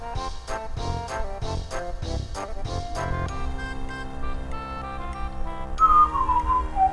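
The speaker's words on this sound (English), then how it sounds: "Don't whistle." A tuneful whistle in the Super Mario RPG video game, a clear gliding melodic line that enters in the final second over bouncy game music and percussion.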